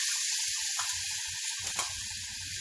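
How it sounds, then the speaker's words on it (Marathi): A tomato and green chili paste cooks in hot oil, giving a steady, fairly faint hiss and sizzle with a soft bubbling low underneath. "आणि ही जी पेस्ट करून घेतली आहे टोमॅटो मिरचीची घालू आपण. ती आता शिजवून घेऊ आपण."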